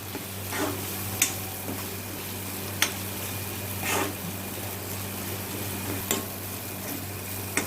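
Uncooked corn kernels cooking in a pan for pulao, a soft continuous sizzle under a low steady hum, with occasional sharp ticks and scrapes as a spoon stirs them.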